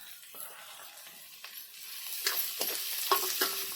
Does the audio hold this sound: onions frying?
yes